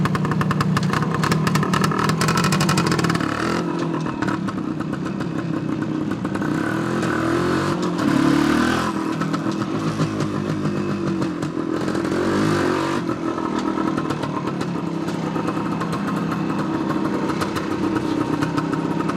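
A 1978 Suzuki DS185 motorcycle with its original exhaust baffles runs nearby. The engine clatters and idles with repeated revving swells, loud and continuous for about nineteen seconds, with no talking over it.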